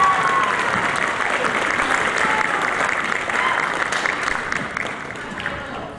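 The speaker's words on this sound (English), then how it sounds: "that deserves applause" An audience at a youth benefit concert applauds in a steady, dense burst of many hands that stays loud and then tapers slightly toward the end.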